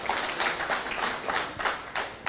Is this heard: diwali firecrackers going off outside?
no